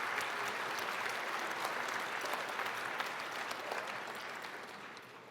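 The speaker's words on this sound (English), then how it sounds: "Big round of applause." Sustained audience applause fills a graduation ceremony hall, dense and even clapping that slowly fades toward the end.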